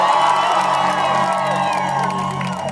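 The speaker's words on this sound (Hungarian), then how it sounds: "Még egy nagy tapsot Fannika ízlésének!" A big crowd at an event in Hatvan cheers and whoops loudly with applause mixed in, a dense sustained roar of shouting voices over a low steady hum.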